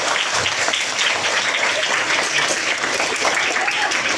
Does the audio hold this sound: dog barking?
no